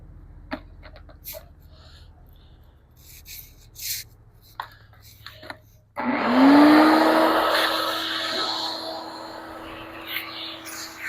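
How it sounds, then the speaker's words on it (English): A vacuum cleaner sucks concrete dust from a drilled anchor hole while a barn's bottom plate is installed. After quiet handling noises, it starts abruptly about halfway through and runs loud and steady to the end, its whine slowly rising. "vacuum cleaner instead. I think that might do a better job getting it out of the hole."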